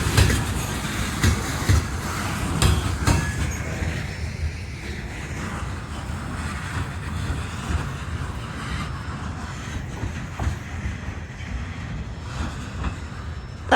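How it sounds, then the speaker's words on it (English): A train passes near a railroad crossing in Ashland, Kentucky, making a loud, continuous low rumble with rhythmic clacking early on that settles into a steady roll and a hiss of wind. "this train did not circle around onto the bridge, it went the opposite direction"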